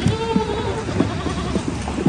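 Goats on a farm bleat again and again, each call short and wavering, close and fairly loud over a busy outdoor background.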